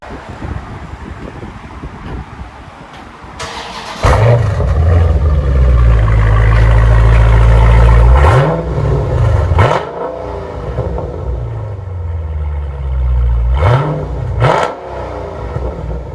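A 2019 Dodge Challenger HEMI 1320 Edition V8 with dual exhaust and mid muffler delete revs hard through loud exhaust, rising and falling in throaty bursts over a rumbling idle, close and outdoors with wind noise.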